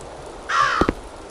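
A single bird caw in the video game Root Of Evil: The Tailor, one loud harsh call followed by two short clicks, close and alone.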